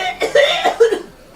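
A woman coughs in a short burst of two or three harsh, close coughs, with a brief throat-clearing quality.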